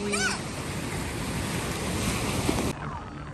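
Surf rolls and breaks onto the sand at Coquina Beach, Florida, a steady loud wash with wind buffeting the microphone, easing slightly near the end.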